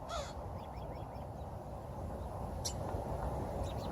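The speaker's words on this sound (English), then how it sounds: "This crow is saying, this is my territory." A crow caws among squabbling seagulls outdoors, with a few harsh calls over a constant roar of wind or surf and faint bird cries in the background.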